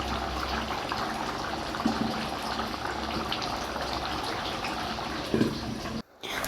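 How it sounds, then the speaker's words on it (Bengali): Hot water is poured into camel meat cooking in a pot in Oman, giving a steady, continuous liquid rush with a couple of brief clunks and a sharp cut-off near the end. "মাংস কষানো হলে মাম্মা হট ওয়াটার দিয়ে দিচ্ছে।"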